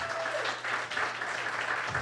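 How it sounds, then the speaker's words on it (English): A room full of people claps for a former founding executive director at a community development event, the applause steady and fairly loud throughout the short stretch. "Round of applause for Pam, please."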